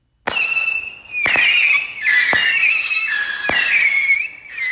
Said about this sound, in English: once the firework is lit, the empty part of the tube will vibrate, creating a whistling sound.